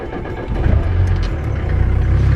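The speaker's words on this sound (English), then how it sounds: "so let's try and start the engine" A Mercedes G-Wagon W461 (Geländewagen) engine cranks and catches about half a second in, then settles into a steady, loud, close idle with a low rumbling throb and no talking.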